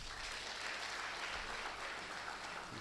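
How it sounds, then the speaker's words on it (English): An audience at a trade fair special-day event, the Ekiti State day at the Lagos International Trade Fair, applauds performers: an even wash of distant, faint clapping that holds steady throughout with no clear voices. "a round of applause for them"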